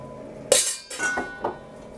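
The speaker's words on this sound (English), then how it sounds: "Keep stirring it up" A spoon stirs lobster cake mixture with lime juice, lime zest and diced red onion in a bowl, making a few bright clinks and scrapes against the bowl, close and fairly loud.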